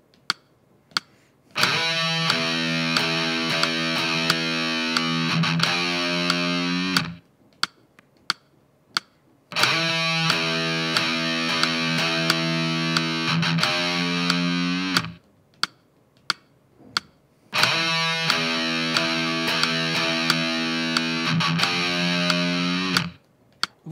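A distorted electric guitar riff plays three times, each pass separated by a short pause, while a metronome ticks steadily throughout.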